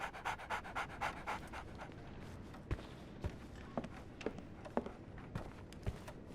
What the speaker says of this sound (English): So, Barnes has a dog now.